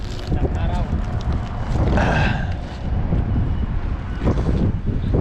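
Heavy wind buffeting the microphone at the seashore while fishing, a constant low rumble that swells around the middle, with a voice briefly audible.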